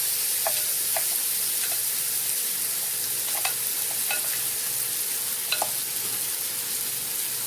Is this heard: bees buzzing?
no